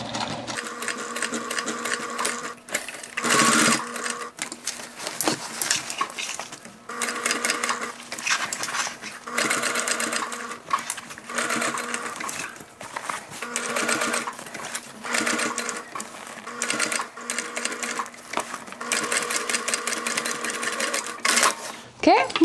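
A sewing machine stitches a thick seam on a denim tote bag made from old jeans, running in loud rapid bursts with short pauses between runs, while a person talks over it.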